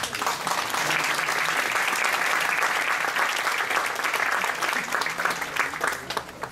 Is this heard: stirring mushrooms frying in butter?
no